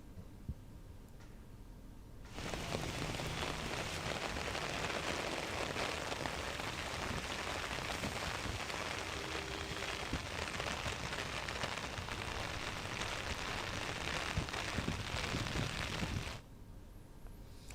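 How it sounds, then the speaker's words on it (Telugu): Heavy rain pours down in Hyderabad, a dense, loud, unbroken roar that starts abruptly, holds steady for about fourteen seconds, then cuts off. "హైదరాబాద్లో వర్షం దంచి కొడుతుంది."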